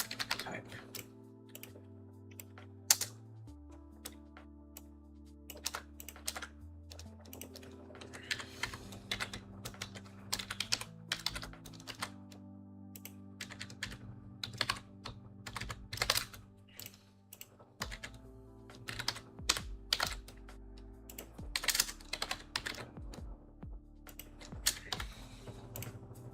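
Computer keyboard typing while coding a RISC-V emulator in C++, with irregular bursts of sharp keystrokes and pauses over steady background music.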